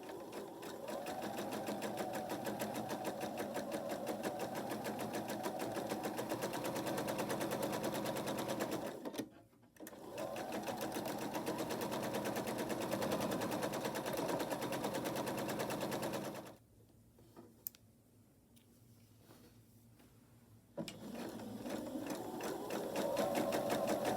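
A sewing machine runs long steady stitching passes along quarter-inch seams on fabric squares, a close rapid hum broken by two short pauses before starting up again.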